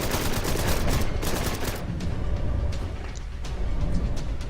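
Sustained bursts of video game gunfire roar nearly continuously throughout, dense and loud with rapid repeated shots layered together.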